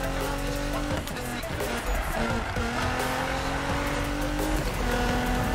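A Fairlady 240Z braking and drifting in Need for Speed 2015, with a loud sustained engine roar and tire squeal under game audio, continuous and close throughout.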